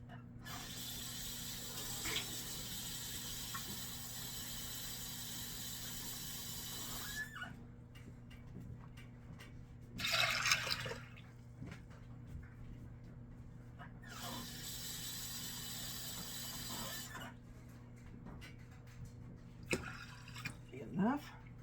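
Water pours from a tap into a crock pot holding navy beans in several bursts of splashing flow separated by quiet pauses, faint and close, with small clinks and handling noises between.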